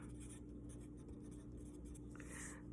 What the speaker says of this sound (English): I'm just gonna write diagonal lines.